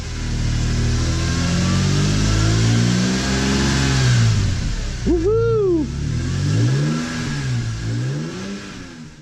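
A BMW E46 M3's S54 straight-six, freshly fitted with a rebuilt Vanos, revs up and holds close and loud, with a sharp throttle blip and falling pitch partway through and a voice whooping over it.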